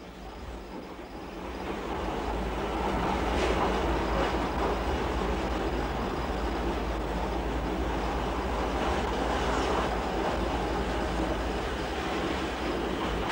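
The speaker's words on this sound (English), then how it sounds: "the steeply angled curve, which brings the DLR alongside the main line into Stratford" A Docklands Light Railway train runs along a steeply angled curve into Stratford, giving a loud, steady rumbling roar of wheels and running gear that swells slightly after the start and holds throughout.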